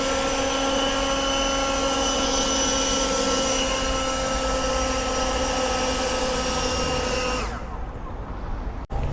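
A Husqvarna leaf blower runs loud and steady with a dense whine and strong harmonics, its pitch held high for most of the stretch, then the engine cuts back abruptly near the end to a quieter idle.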